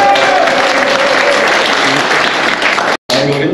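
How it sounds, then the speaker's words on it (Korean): Loud, close welcoming applause from an audience at a political policy-agreement signing event, dense steady clapping broken by a sudden brief dropout near the end. "환영의 박수 부탁드립니다."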